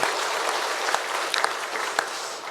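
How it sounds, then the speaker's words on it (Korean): A church congregation claps in thanks and encouragement after worship singing, a steady dense wash of hands with a few sharper claps standing out, no voices over it. "한 번 더 감사와 격려의 박수."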